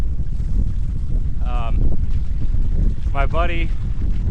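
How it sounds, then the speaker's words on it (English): Strong wind roars across the microphone while walking a lagoon shore on an inshore fishing outing, a constant loud rumble with someone briefly speaking and a couple of short whistling bird calls. "it is just freaking windy."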